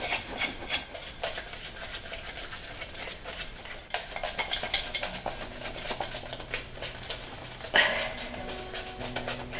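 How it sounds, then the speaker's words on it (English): Frosting is whisked by hand in a bowl in an off-grid cabin kitchen, with continuous scraping and rubbing strokes of the whisk against the bowl and a few light clinks, close and moderately loud. "you want to whisk it until you get a frosting like consistency"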